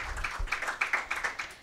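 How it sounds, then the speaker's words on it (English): Brief applause welcoming a session chair at a city partnerships panel, a thin scatter of claps with rhythmic peaks rather than a dense ovation, moderately close and fairly quiet. "please have a round of applause to welcome him again"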